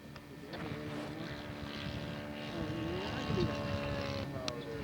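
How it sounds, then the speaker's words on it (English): An Aeronca LC scale model airplane flies past at a model aircraft show, its small engine droning steadily with a rising whine, set against outdoor ambience. "It's a great flying airplane,"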